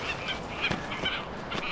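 Seabirds gather on a ridge on Pitcairn Island, giving a faint run of repeated honking, clucking calls over wind or open-air noise.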